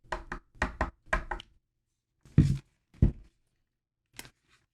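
Knuckles rap on the hard plastic casing of a Tronsmart Bang Mini 50-watt Bluetooth speaker in quick close knocks, three short double raps followed by a few spaced single knocks, with no talking.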